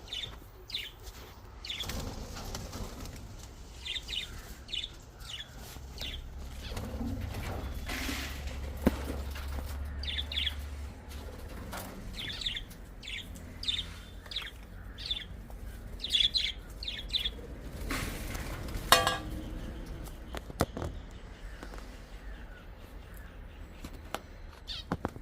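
Pet birds chirping in short, high bursts scattered across a quiet indoor background, fairly faint and irregular, with occasional faint rustling and soft handling sounds.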